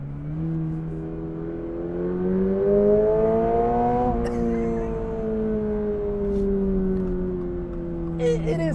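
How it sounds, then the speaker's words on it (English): A 2026 Toyota GR86 revs its exhaust steadily and loudly for several seconds, the engine tone rising and holding before easing slightly, with a brief scrape near the end. "I know I said I'm not a big fan of the exhaust"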